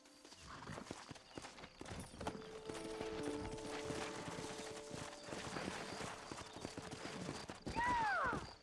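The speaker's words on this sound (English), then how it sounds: "Horses are over here!" Horse hooves clop steadily in the video game Red Dead Redemption beneath a droning game soundtrack, with a brief whinny-like squeal near the end.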